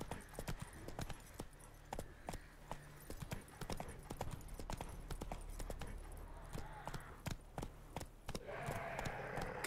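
Roach, the horse in The Witcher 3, trots along with steady, evenly spaced hoof clip-clops that run throughout, fairly close and crisp over faint ambient game sound.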